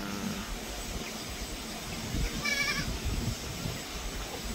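Goats on a small farm of does and kids give a short bleat near the middle, faint against a steady outdoor background hum.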